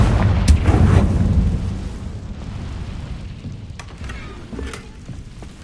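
The Confringo spell explodes in Hogwarts Legacy as a loud booming burst that rumbles and then fades, with a few sharp crackles and pops after it.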